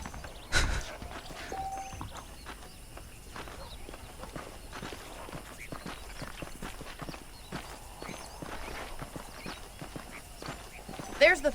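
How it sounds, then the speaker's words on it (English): Horse hooves clip-clopping in the Red Dead Redemption video game, a steady walking rhythm of soft thuds against a quiet outdoor ambience, with a couple of louder knocks near the start and end and a voice speaking faintly underneath. "The horses are saddled up over here."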